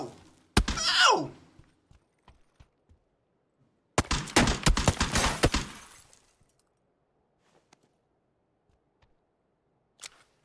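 Gunfire in the battle game PUBG, played on PC: a sharp shot near the start, then a dense burst of rapid shots about three seconds later, loud and close, with quiet gaps and a faint thud near the end.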